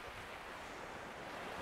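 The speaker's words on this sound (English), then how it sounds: "I'm getting a load of wave noise" Sea waves wash continuously onto the shore on the East Coast during sea fishing, a steady, broad rushing roar mixed with wind buffeting the microphone, with no voices.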